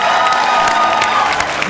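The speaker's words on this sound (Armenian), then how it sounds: "Բարձր ծափարեք նրան։" At an X-Factor Armenia audition, a studio crowd applauds loudly for a contestant, thick continuous clapping mixed with cheers and a few whoops, close and full throughout.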